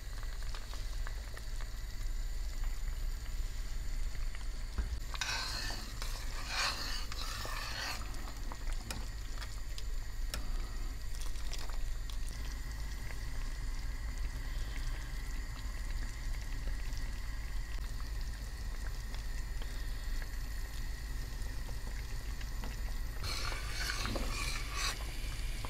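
Quince jam simmering in a pot, with a steady low bubbling bed broken by two bursts of louder popping and spattering, no voices.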